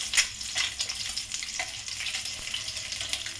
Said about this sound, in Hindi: सारे को पलट करके मैं अच्छी तरह फ्राई कर लेती हूँ।